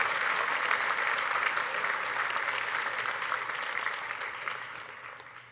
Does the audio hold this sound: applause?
yes